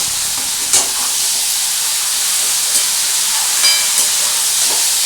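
Snake gourd and prawn curry with salt stirred in a hot pan, giving a steady hissing sizzle with a few sharp scrapes and knocks of the spoon, no speech.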